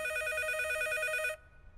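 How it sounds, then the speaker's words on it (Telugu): In a room in a Telugu comedy film scene, a telephone bell rings loud and close in rapid, trilling pulses, then cuts off abruptly, leaving quiet room tone. "ఈసారి ఫోన్ మోగుతుంది మన రూమ్ లోనే."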